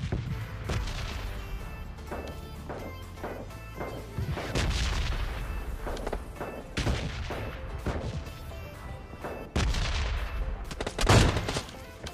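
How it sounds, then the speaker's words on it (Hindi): AWM sniper rifle shots in PUBG Mobile Lite boom out as several sharp, heavy reports spaced irregularly among softer in-game gunfire and movement noise. "इसको भी यार AWM से मारेंगे सबसे पहले, तो हेड शॉट देंगे इसे भी।"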